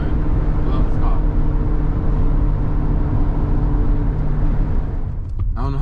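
A Honda Civic Si fitted with an Exedy Stage 1 clutch kit, its engine running with a steady, loud low-pitched drone heard from inside the car.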